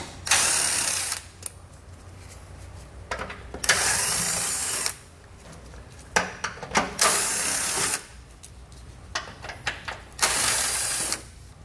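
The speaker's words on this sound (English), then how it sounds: "So you want to use a 10mm socket and just work your way from one side to the other on the very front." Bursts of rapid ratchet clicking from a ratchet with a 10mm socket backing out bolts along the front of a 2020 Jeep Cherokee, several separate runs broken by short quiet pauses, close and clear.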